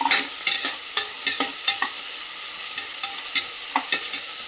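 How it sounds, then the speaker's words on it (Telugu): Green peas with salt fry in a pan for peas pulao, sizzling softly under a close, regular series of sharp scraping stirs from a utensil. "ఈ బఠానీ వేశాక దీంతోపాటు మనం రుచికి తీసుకున్న సాల్ట్ కూడా వేసేసుకుంటే దీంతో పాటు కలిపి వేగుతుందండి"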